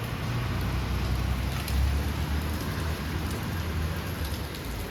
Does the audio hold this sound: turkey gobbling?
no